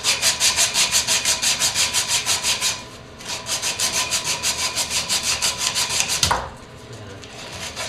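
Hand sanding of wood with worn, beat-up sandpaper: rapid rhythmic back-and-forth rasping strokes, close and loud, pausing briefly midway, then resuming before a knock and a quieter ending.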